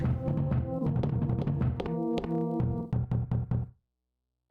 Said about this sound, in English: Someone's knocking at the door. What an annoying knock.